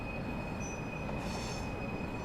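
A heritage train running near Paignton, a continuous rumble of railway wagons with a high, steady wheel squeal over it, fairly distant and unbroken.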